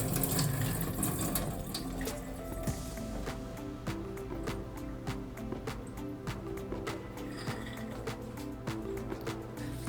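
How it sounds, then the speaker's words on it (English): Water pours steadily out of a jar of soaked pea seeds being drained, a continuous close splashing trickle with faint glassy knocks and clicks, running the whole time with no voices. "6 to 12 hours later, or the next morning, drain the water from your seeds."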